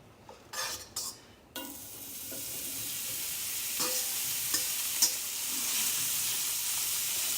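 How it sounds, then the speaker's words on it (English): Ham hits hot oil with potatoes in a pot, a few utensil clinks giving way to a steady, loud, close sizzle that keeps building, with occasional scrapes of stirring. "Let that fry up a little bit, get some taste on it, get some color."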